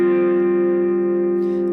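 Sustained, overdriven electric guitar chord, loud and ringing alone with a long decaying tail, played in a worship-song tutorial.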